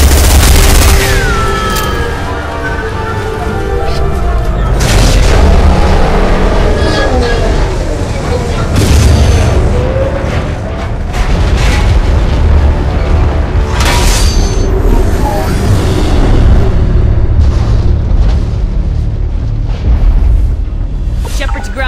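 Heavy gunfire and booming blasts in Mass Effect 2 combat, loud and chaotic, with repeated bursts and explosions layered over a rumbling background and occasional voices.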